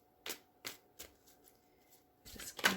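A deck of tarot cards is shuffled by hand, with several crisp riffling bursts and soft slaps at a steady pace, ending in a louder flurry of cards, close up.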